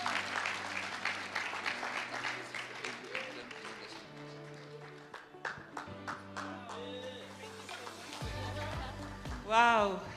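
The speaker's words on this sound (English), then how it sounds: "Can we please give her a round of applause?" Audience applause at a national ICT summit, a steady crowd clapping that runs through the stretch with voices and talk mixed in, then tapering off.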